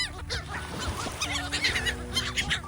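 Geese or ducks honk and squawk repeatedly at close range while being fed, a busy overlapping chorus of loud calls with no talk.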